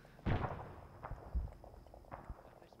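Distant anti-air gunfire in the ArmA video game, several faint muffled thumps and pops scattered irregularly over a few seconds against low background noise.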